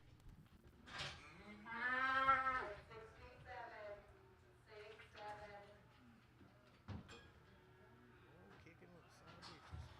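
Cattle low and moo at a livestock auction at Clinton Stockyards; a few moos sound from the pens under the auctioneer's rapid chant, with a brief thump partway through.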